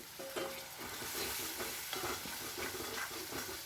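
Mustard greens and spinach curry with garam masala and a splash of water being stir-fried, steady sizzling with repeated rhythmic scraping strokes of a spatula against the pan, quiet and without speech.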